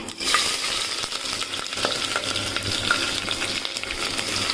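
Mustard seeds dropped into hot oil in a pressure cooker give a steady, close sizzle with scattered small crackles and pops running throughout.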